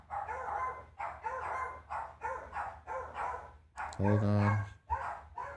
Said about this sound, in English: That's my dogs making a bunch of damn noise.